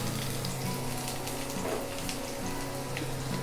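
Chopped onion frying in hot mustard oil for a garlic chicken curry, a soft, steady crackling sizzle with light popping, moderately quiet and uninterrupted, no voices.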